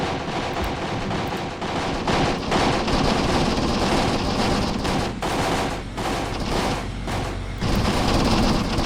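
Machine gun fire in a war video game at the Battle of Cuito Cuanavale, dense continuous bursts of rattling gunfire with booming impacts, loud and sustained across the whole stretch.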